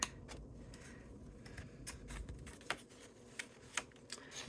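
Scissors snipping through card along a Crafter's Companion shutter-card template, a handful of sharp, separate cuts near and fairly quiet over faint background rustle.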